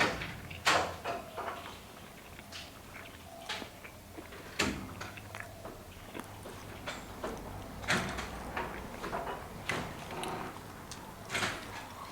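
A grandmother opens a door at about seven in the morning in a quiet house, giving soft repeated creaks and knocks with a sharper clack near the start and others scattered through, all fairly faint.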